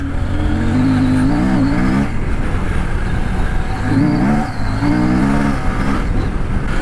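A CF Moto 800MT motorcycle riding slowly in second gear at about 20 km/h, a close, loud engine drone with gentle rises and falls in pitch under steady wind noise.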